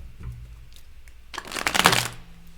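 A deck of cards being shuffled quickly, a brief soft riffle and then a louder, dense flutter of cards cascading together at close range, with no talking.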